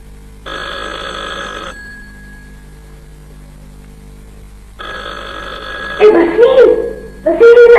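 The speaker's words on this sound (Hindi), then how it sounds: "फोन की घंटी बज रही है।" An electronic phone ring sounds twice in long bursts separated by a quiet pause, with brief voices overlapping the second ring near the end.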